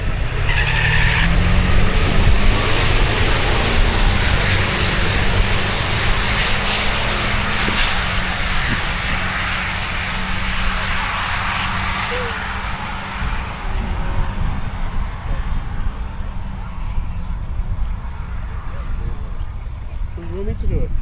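An Isuzu D-Max and a Ford F250 race side by side at a 4WD drag meet in Benaraby, engines roaring loud and sustained across the run while an announcer talks over the din.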